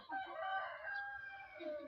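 A chicken inside a house gives one drawn-out, fairly loud call, heard alone with no talking.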